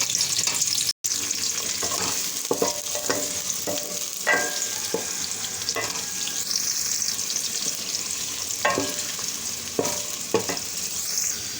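Onions sizzle steadily in hot ghee, a constant frying hiss with occasional stirring scrapes and clinks close by.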